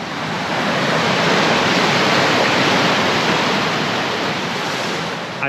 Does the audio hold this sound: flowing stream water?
yes